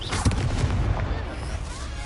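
A Confringo fire-blast spell cast in Hogwarts Legacy goes off as one loud, close boom, followed by a rolling, crackling rumble that fades over about two seconds.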